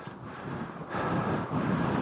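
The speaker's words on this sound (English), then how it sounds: "This wind is mad." Strong wind gusting on a mountain hike up Ben Vorlich, buffeting the microphone as a broad roaring rush that swells louder partway through and stays close and heavy.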